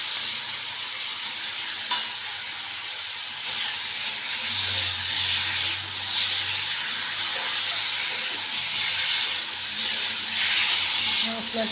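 Chopped tomato and spices frying in a hot pan for a fish-head curry, a steady bright sizzle that runs continuously and fairly loud, with occasional stirring and faint background voices.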